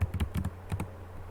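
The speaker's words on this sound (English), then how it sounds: "Pressing up arrow keys." A few quick clusters of key presses on a computer keyboard, tapping the up arrow key, soft and close, with no talk.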